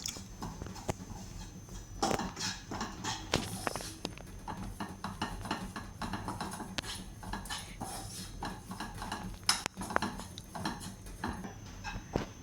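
Finely grated coconut, about a cup, stirred and roasted in a pan for dry fruit mawa modak ladoo, giving a steady run of close scraping and clinking spoon strokes against the metal without any talk.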